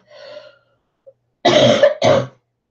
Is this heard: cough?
yes